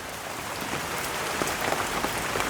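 Steady rain falls outdoors, a dense continuous patter on surfaces with scattered heavier drops, close and fairly loud throughout with no voices.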